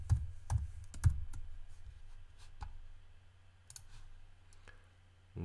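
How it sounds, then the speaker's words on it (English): Computer keyboard typing at a desk, a few sharp close clicks and key taps in short bursts, with quiet pauses between them. "This time I'm gonna type let's type hospital."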